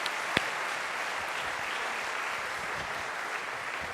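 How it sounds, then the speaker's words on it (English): An audience at the P+EF 2016 prize ceremony in San Patrignano applauds the women, with even, continuous clapping from a distant crowd throughout and one sharper clap standing out near the start. "A round of applause for all of the women"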